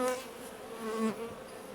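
Honeybees buzz around an open beehive during a queen-marking inspection, a continuous close hum with wings rising and fading as individual bees pass near.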